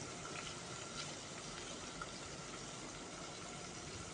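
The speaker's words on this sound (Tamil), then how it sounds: "பன்னீர் இது மாதிரி ஃப்ரை பண்ணி எல்லா பன்னீரையும் நல்லா 2 சைடும் பரட்டி நல்லா ஃப்ரை" Cubes of paneer shallow-fry in hot oil, giving a steady, even hiss that stays fairly quiet throughout, with no talking.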